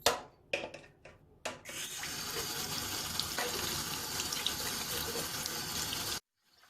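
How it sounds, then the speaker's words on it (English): A washing machine detergent drawer is rinsed under a running kitchen tap, with a few short splashes first, then a steady loud gush of water that runs for several seconds before stopping abruptly. "All I do is give the whole thing a rinse after every wash"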